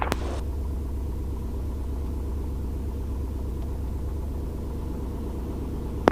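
Light aircraft engine running up on the ground before a VFR departure at a mountain airfield, a steady low droning rumble held at constant power without pause, with a sharp click near the end.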